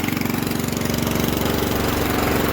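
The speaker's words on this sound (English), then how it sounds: "what you guys are looking at here is just a transfer pump." A transfer pump engine runs steadily while liquid nitrogen fertilizer is moved between tanks for top dressing wheat. A close, even idle with a quick repeating pulse chugs on throughout, alone and unchanging.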